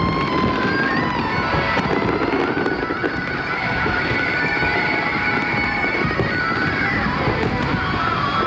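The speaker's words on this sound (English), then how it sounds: "this massive 16-inch shell, which we're told will spread fireworks over 400 metres" A massive 16-inch firework shell bursts over 400 metres at a Millennium 2000 celebration, heard as a loud, dense, continuous crackling roar that holds steady for several seconds without a single sharp boom.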